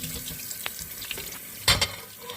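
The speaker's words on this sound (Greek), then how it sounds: "Τώρα τις πλένω καλά." Tap water runs into a kitchen sink while raw shrimps are rinsed and handled, soft splashing and trickling with a brief louder gush near the end.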